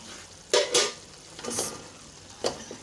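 Cooked rice is stirred into hot sugar syrup for sweet zarda, giving a few close, distinct scraping and sizzling strokes of a spoon in the pot with quiet gaps between them.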